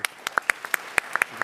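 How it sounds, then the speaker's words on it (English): Brief, sparse clapping from an audience at the TechCrunch Disrupt 2023 startup conference, a dozen or so distinct, fairly close claps scattered across a short burst rather than full applause. "So give him a round of applause."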